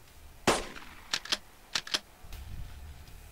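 Gunfire and grenades in the video game March of War: one sharp blast, followed by several quick pairs of crisp gunshots, then a lower rumbling burst, all fairly close against a quiet background.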